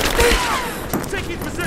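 Gunfire bursts in Rise of the Tomb Raider, with rapid overlapping shots and action noise under shouted combat voices.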